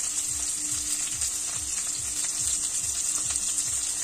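Fried potato and tomato sprinkled with salt sizzle steadily in a pan while a spatula scrapes through them in regular strokes about twice a second, close and clear with no talking.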